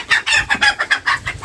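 Sonali hens mixed with native hens and a rooster cluck in a close, busy run of repeated calls, each burst short and rising, with no talk over them.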